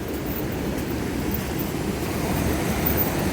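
The LA River running high and fast during a storm, a continuous low rushing roar mixed with gusty wind buffeting, steady and fairly loud, with no speech.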